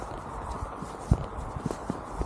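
A young horse walking out alone for one of its first rides, near the stables, hooves clip-clopping in an irregular series of soft thuds over a quiet outdoor background, without talking.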